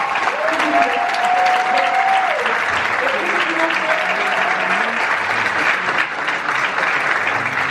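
An audience at a business conference in Paris applauds loudly and steadily for the whole stretch. A voice briefly rises over the clapping near the start.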